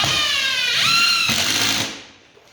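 A power drill drives a countersunk screw into a floor joist. The motor whines loudly and close, its pitch rising as the screw seats, then it stops abruptly within two seconds.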